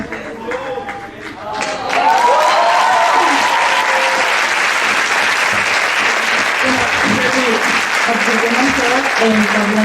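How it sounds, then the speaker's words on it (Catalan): Audience at a Year 4 ESO school graduation musical breaks into loud, sustained applause after a couple of quiet seconds, the clapping building into a dense, even roar with voices mixed in. "els demanaria al públic que facin un fort aplaudiment"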